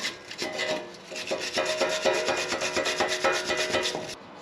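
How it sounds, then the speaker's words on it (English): Wire brush scrubbing a brake caliper on a Toyota 4Runner / Lexus GX460 during a front brake job: steady rapid back-and-forth rasping strokes, close and continuous for several seconds. "Going to use a wire brush."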